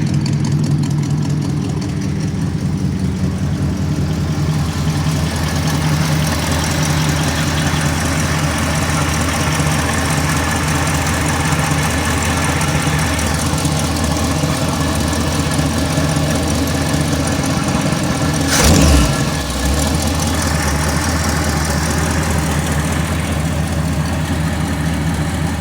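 A 1975 Ford F100 with a 302 V8 and Cherry Bomb true dual exhaust idles steadily and close by. Its deep, even burble runs for the whole stretch, with one brief louder thump near the end.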